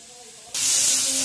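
Flat beans are dropped into a hot pan to be lightly fried for a paste, and a sudden loud, steady sizzling hiss starts partway through after a quiet moment.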